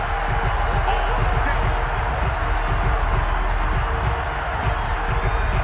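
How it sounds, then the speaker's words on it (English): Stadium crowd at a Alabama versus Ole Miss college football game shouting and murmuring in a dense, steady roar while a replay is watched, loud and continuous with no clear individual voices. "Plenty of shouts from this crowd as they watch the replay."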